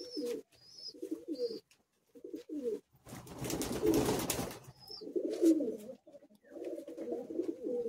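Pigeons in a high-flying Madrasi pigeon loft cooing in repeated throaty bursts with brief pauses, interrupted midway by a short rush of rustling or flapping noise, then the coos return.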